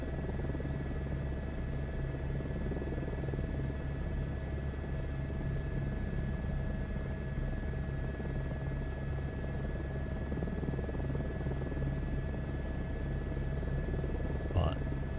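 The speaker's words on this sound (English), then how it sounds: "We're in a helicopter." Helicopter in Microsoft Flight Simulator 2024 holding a steady, loud rotor drone and low engine rumble throughout, unbroken and even, with a brief faint blip near the end.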